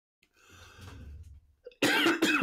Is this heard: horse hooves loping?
no